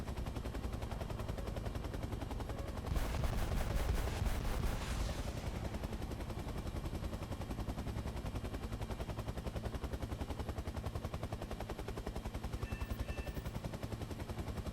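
An AH-1F attack helicopter in a VR flight sim lets off a rapid burst of rockets over its constant rotor and engine drone, the volley lasting a couple of seconds before the steady whine continues alone.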